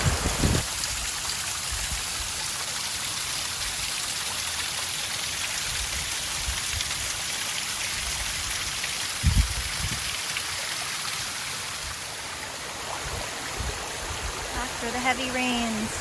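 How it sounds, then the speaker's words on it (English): Heavy water pouring across a bay after five hours of hard rain, a newly formed waterfall at high tide, steady broadband rushing roar throughout with occasional low thumps and a brief voice near the end. "huge waterfall across the bay now that was not there before from this water just pouring out"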